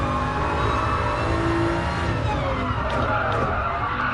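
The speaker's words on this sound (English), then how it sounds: "I can just hear the tyre squeal like nothing else." Race car tyres squeal continuously in the GT Sport racing video game, a loud, dense skidding screech layered over engine roar, sustained without a break and with no talk over it.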